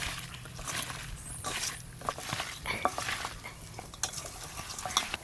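Peeled shrimp is mixed by hand with turmeric, salt and mustard oil in a bowl, giving soft wet squelching and stirring sounds with occasional light clinks of utensils, close and quiet.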